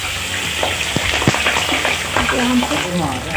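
Mashed potatoes sizzling and frying in a pan for potato halwa, a steady loud sizzle with scraping stirring strokes close by throughout.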